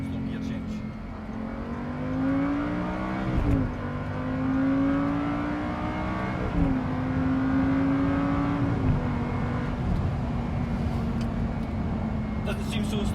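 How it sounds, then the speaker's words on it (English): An Audi R8 V10 with the R Tronic gearbox pulls hard under acceleration, its engine note rising steadily and dropping sharply at each of several upshifts spaced a few seconds apart, loud and close from inside the car, with talk over it. "I will now show you what people call a slow gear change"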